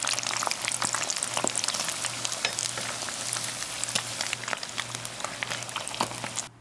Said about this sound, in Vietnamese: Khi chiên giòn cá không hề bị hút dầu đâu nha các bạn.